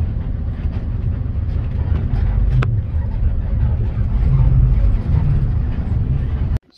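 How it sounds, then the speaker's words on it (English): A large bus drives along a road to a remote desert archaeological site, its engine a steady low rumble with road roar filling the cabin, continuous and loud until it cuts off abruptly at the end. "I'm in a giant bus that's going to drive back to the site."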